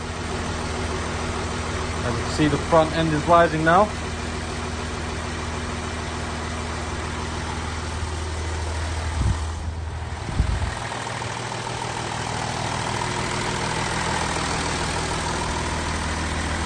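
Audi Q7 3.0 TDI diesel idling steadily after start-up, a low constant rumble with a brief mechanical thump partway through, while someone talks over it at first.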